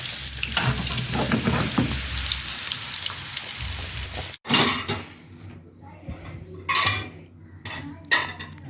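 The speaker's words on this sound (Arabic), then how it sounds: "لسه الدج اهو بحمر فيه وبعمل البطاطس" Potatoes frying in a pan of hot oil in a home kitchen, a steady loud sizzle for the first half, then quieter sizzling broken by scraping stirs and clinks of a utensil against the pan.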